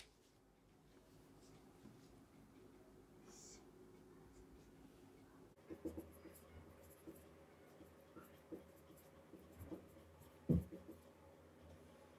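Marker or chalk writing names on a board during a biology lesson, faint scratchy strokes and taps in a quiet room, with a few firmer knocks as letters are finished.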